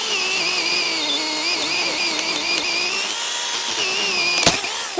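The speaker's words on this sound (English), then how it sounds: "this is not the best chainsaw. My chain is a little loose" A chainsaw with a slightly loose chain cutting through a tree, a loud, steady, buzzing engine drone with slight pitch wavering, ending in a brief sharp crack.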